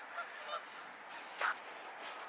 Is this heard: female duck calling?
yes